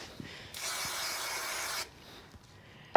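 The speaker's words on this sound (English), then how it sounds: "So I'm just going to give it a quick spray on the back" A single steady hiss from an aerosol can of spray adhesive onto the back of a card lasts over a second, close by, with faint handling noises before and after.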